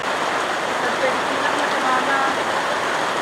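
Heavy rain pours down in a dense, loud, continuous wash of hiss that fills the whole stretch with no let-up, while faint voices murmur underneath.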